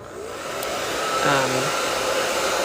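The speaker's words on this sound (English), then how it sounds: "This needs a quick hit with my hairdryer." A hair dryer blows with a steady, close, broadband whoosh that holds constant throughout, with a faint tonal hum rising briefly in the middle.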